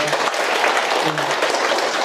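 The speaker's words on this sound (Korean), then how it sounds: "다시 한번 박수 부탁드리겠습니다" An audience applauds a lecturer at the end of a five-week lecture series, a dense and continuous wash of many hands clapping at an even, full level, with a few voices faintly mixed in.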